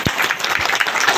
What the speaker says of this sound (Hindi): अच्छा लगा हो तो ताली बजा देंगे।